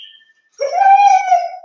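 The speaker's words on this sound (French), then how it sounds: "là vous écoutez, en fait, ma chienne, une de mes chiennes." A female border collie lets out one drawn-out whining howl, close and clear, after a second of near silence with a faint high tone.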